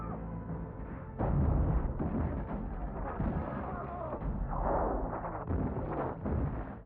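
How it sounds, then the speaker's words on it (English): Heavy cannon fire in a battle scene from the 1992 film The Last of the Mohicans, booming blasts rolling over a sustained rumble, with people talking over it. "Some giant ass cannons."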